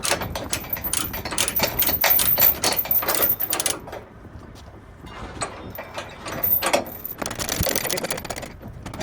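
Ratchet chain binder being tightened by hand on a hotshot trucking trailer, giving a run of rapid metallic clicks and clanks that pause midway, then resume close up.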